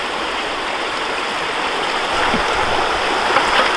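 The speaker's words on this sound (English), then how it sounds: "pour out your water" A steady, rushing wash of water poured out of a gold sluice, streaming continuously, close and fairly loud, with no breaks and no voices.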